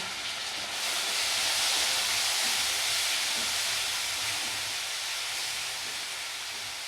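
Spice paste with salt and turmeric sizzles and fries in a pan for jackfruit and prawn curry, a loud steady hiss that rises after the first second and holds throughout, with no talking.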